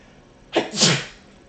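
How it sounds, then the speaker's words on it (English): A single loud, sharp sneeze up close, bursting out suddenly and fading quickly into quiet. "I'm gonna sneeze."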